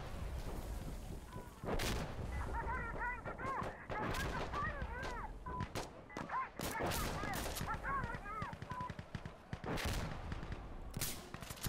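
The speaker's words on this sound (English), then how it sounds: "Mortar fire coming in." Artillery and gunfire from an Insurgency Sandstorm battle, loud repeated blasts and cracks scattered over a steady din, with a melodic voice or call running underneath.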